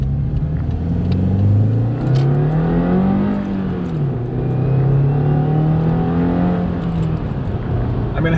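A 2015-20 Subaru WRX running a Cobb Stage 1 tune accelerates, its engine note rising and falling through several revving sweeps, heard loud and close from inside the car.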